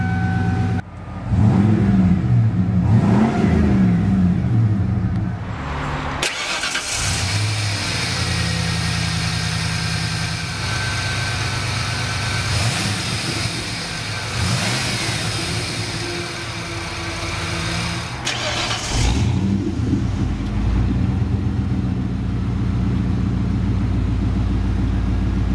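The 5.0 V8 of a 1994 Ford F-150 XLT idles with a steady close rumble, then is revved in a few rising and falling bursts early on and again in the middle before settling back to idle.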